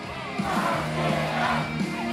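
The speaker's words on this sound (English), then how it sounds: "Let's cheer him on, everybody!" A live crowd at a Slam Portal event whoops and yells in sustained cheering, a dense wash of voices with rising and falling shouts running steadily throughout.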